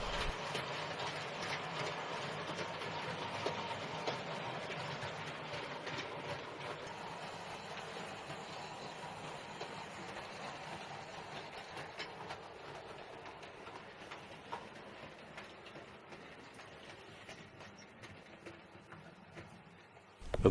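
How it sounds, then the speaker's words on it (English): Model goods train hauled by a Terrier tank engine crossing a swing bridge on a harbour layout: a long, steady mechanical rumble with fine clicking and rattling of wheels over track, moderately quiet and fading slightly toward the end. "A goods train hauled by a Terrier tank crosses the swing bridge"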